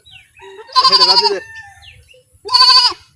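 Goats, a male and a female, bleat during a sudden rain shower at a rural home, two loud drawn-out bleats separated by a pause, with faint low background noise.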